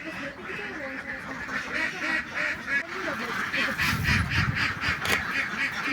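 A flock of egg-laying ducks at a duck farm quacks and honks continuously at close range, a dense, busy chorus with louder bursts toward the end.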